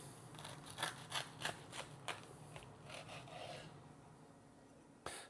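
A knife saws through a toasted breakfast sandwich, giving a rhythmic series of faint, crisp rasping strokes close up, then a pause and one last scrape.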